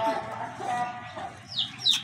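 An Aseel hen clucks close by in a few short, throaty bursts, with some higher squawks near the end amid faint background noise.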